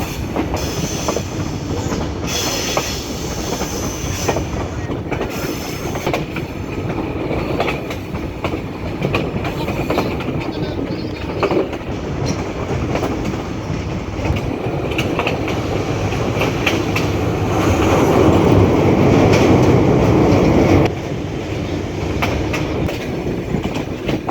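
Train crossing the old Jamuna railway bridge, heard from onboard as a loud continuous rumble with clickety-clack from the wheels, swelling into a heavier roar for a few seconds before easing, no talk.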